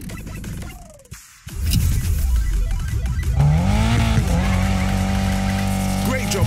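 A car drifts in Need for Speed Payback, first a whoosh and brief skid, then a sustained howling tire squeal over a revving engine, close and loud, with a voice briefly audible.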